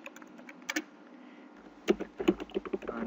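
Keys are typed on a computer keyboard nearby: a few light taps at first, then a quicker run of clicks in the last second and a half, faint and uneven in rhythm.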